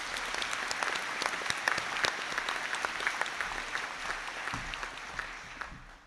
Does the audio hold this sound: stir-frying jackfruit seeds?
no